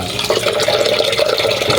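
Water is poured steadily over corn grits being washed before cooking, a continuous close splashing rush that runs without a break throughout.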